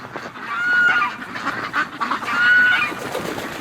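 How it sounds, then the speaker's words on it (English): Muscovy ducks fly low overhead in winter, giving loud, close wing rushes with a couple of short honking calls and breathy hisses in quick succession. "Muscovy doing a low flyby"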